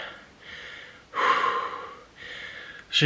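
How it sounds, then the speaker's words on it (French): Heavy, ragged breathing of a man who is winded after going down and back up, with loud gasping inhales and exhales in uneven bursts, close and alone without speech. "En fait je suis essoufflé, rien que de descendre et de remonter là."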